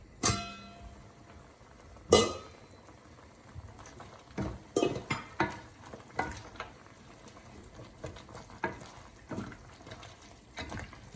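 Lamb and chana dal stirred in a pot, with a series of scraping, clattering knocks of a spoon against the metal at irregular intervals over a faint background bubble, close and fairly quiet, no talking.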